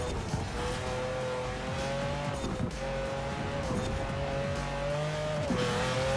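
A 2017 Aston Martin Vanquish Zagato driven in Forza Horizon 4, its engine droning steadily at high revs with pitch rising and dipping through gear changes, loud and continuous with brief tire noise.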